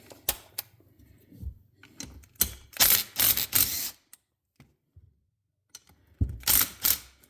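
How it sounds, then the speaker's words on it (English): A small impact wrench breaks loose 10 mm bolts on a Kohler XT-675 mower engine, giving several sharp rattling hammering bursts close up, with quiet gaps between them. "See if my little impact has enough oomph to break them."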